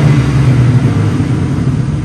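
A 510 hp car's exhaust drones loud and close in a steady, deep low rumble, holding a constant rev with no voices.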